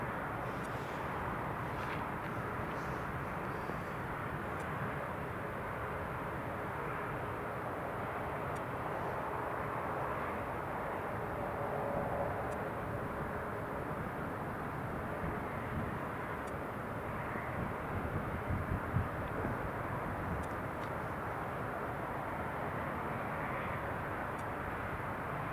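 An Emirates airliner on approach to Newcastle International Airport produces a low, steady, distant engine roar that holds evenly throughout, with faint wind noise.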